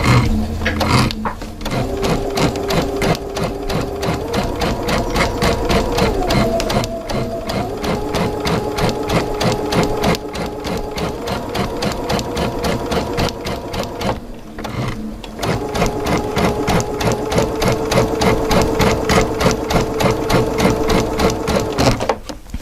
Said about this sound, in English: I'm going to go and stitch over on the hill part